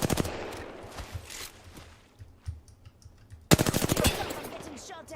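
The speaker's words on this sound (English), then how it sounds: "I'm getting shot at." Rapid automatic gunfire in Apex Legends, bursts of close, loud shots followed by a quieter stretch and then another sustained volley.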